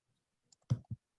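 A computer mouse gives two distinct clicks close together, sharp and close, in an otherwise quiet room.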